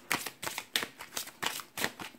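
Tarot cards shuffled and drawn by hand, giving a close, crisp run of about six papery riffling bursts in a steady rhythm with short pauses between.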